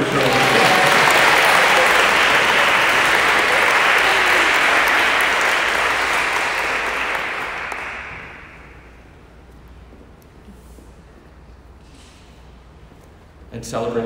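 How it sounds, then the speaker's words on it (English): Loud audience applause at an award presentation during a school feast-day celebration, dense clapping for about eight seconds before fading to a quieter room, with a burst of clapping returning at the end. "You missed your round of applause."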